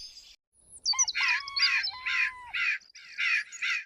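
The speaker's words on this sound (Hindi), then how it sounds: "एक जंगल में कौवा पेड़ पर बैठकर आराम कर रहा था।" Cartoon crow cawing in a jungle: a run of about six loud, harsh, nasal caws in quick succession, close and clear with no talk over them.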